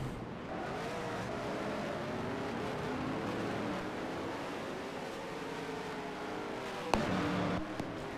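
Race car in a Solstice Proline Cup Series race at Colorado Motorplex, driving through the chicane: a steady, fairly distant engine drone with shifting pitch as it works through the corner, followed by a sudden sharp knock near the end.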